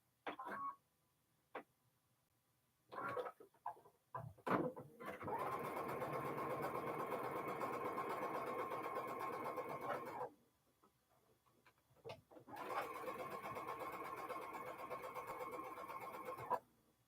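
A domestic sewing machine chain-piecing quilt block pieces for a Windows block, running in two long steady bursts of whirring stitching separated by short pauses and a few clicks and knocks.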